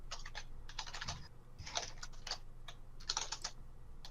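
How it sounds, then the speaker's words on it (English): Furious, rapid computer keyboard typing clacks away in bursts at a distance, coming in quick clusters separated by short pauses over a low steady background hum. "Furious distant clacking."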